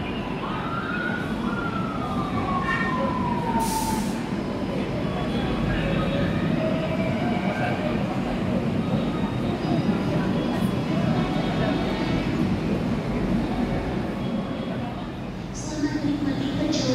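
Steady rumble of a special (KLB) train idling and pulling out of Gambir station, Jakarta, bound for Cirebon, with a faint horn-like tone and station noise underneath.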